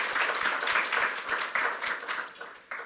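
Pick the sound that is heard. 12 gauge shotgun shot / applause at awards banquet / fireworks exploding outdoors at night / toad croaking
applause at awards banquet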